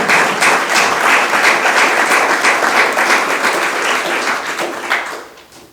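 Loud, sustained applause from an audience at a Berkeley, California celebration event, a dense wash of many hands clapping that continues steadily before fading toward the end.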